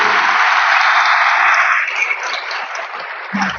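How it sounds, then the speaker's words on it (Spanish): An audience applauds after a talk, a dense burst of clapping that loosens and thins toward the end, heard close and loud without speech. "el aplauso de ustedes será el termómetro"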